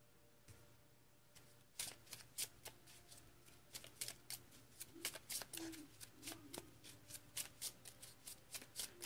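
A Pokémon trading card deck is riffled and bridged again and again, crisp fluttering bursts up close over a faint background hum.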